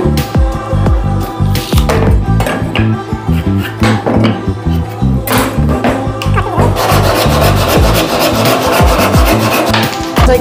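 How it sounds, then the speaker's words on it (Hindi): A hand saw rasps through a wooden strip in steady back-and-forth strokes, loud and close, quickening into a dense, rapid cutting rhythm toward the end, with no talking. "हम 19 इंच लंबी अपनी पट्टी की पेमास काटेंगे"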